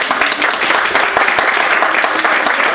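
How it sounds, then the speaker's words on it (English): Steady applause from a zoo staff audience at a talk, a dense wash of clapping that holds at the same level for a few seconds with no voices over it. "let's celebrate with a round of applause for."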